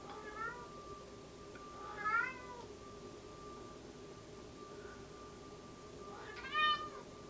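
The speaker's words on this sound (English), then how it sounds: "Can you guys hear my cat?" A cat meows twice, a few seconds apart, each call rising and falling, over a steady low hum and faint background noise.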